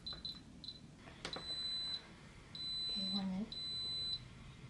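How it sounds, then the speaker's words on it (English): Instant Pot Ultra beeping as a pressure cook starts, a few quick high beeps followed by three longer steady electronic tones, quiet and close, with faint talk in the background. "And the beeping is to let you know that it started."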